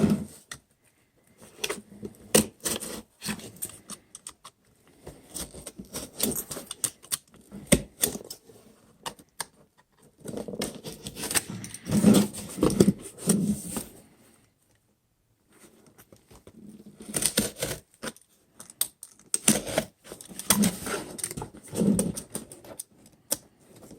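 Wooden paint stir sticks are sawed or cut in bursts of rapid rasping, clicking strokes, close and fairly loud, separated by short pauses, with no voices.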